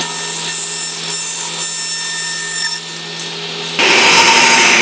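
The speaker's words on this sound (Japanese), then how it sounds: "世に言う昇降板、一番危険な機械。" A woodworking machine, a shaper-type cutter in a Japanese joinery workshop building a nail-free bench, cuts wood with a steady droning whine that turns harsher and louder near the end, loud and close, with no talking.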